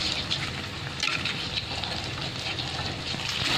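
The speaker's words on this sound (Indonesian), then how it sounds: "Oke, kita goreng terus sampai matang." An egg stuffed with cabbage fries in oil in a village-style pan, sending out a steady, close, crackling sizzle with small pops and bubbling throughout, without voices.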